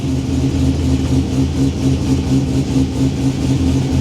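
A Corvette V8 idles with an aggressive cam, a loud, steady, lumpy low rumble with a rhythmic choppy lope running throughout, close by and with no talking.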